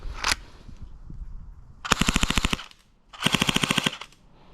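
An airsoft gun fires BBs on full auto in two sustained bursts of rapid, evenly spaced shots, close and loud, preceded by a single sharp report, with no talk over the firing.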